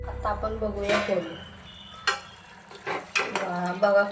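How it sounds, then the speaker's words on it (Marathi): Whole spices tempering in hot oil for a paneer ghotala curry give a close sizzle and crackle, with stirring and the clink of a utensil against the pan in short bursts. "आता आपण बघूया फोडणी."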